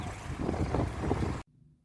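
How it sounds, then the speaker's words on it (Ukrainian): Strong wind roars and buffets the microphone in a loud, steady rush, then cuts off abruptly into near silence. "Вітер страшний, страшний."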